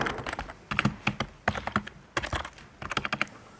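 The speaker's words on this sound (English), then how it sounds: "Let's see how good this keyboard sounds." Keys clack on an old computer keyboard in an abandoned Gothic asylum, a close, uneven burst of typing with short pauses between runs of keystrokes.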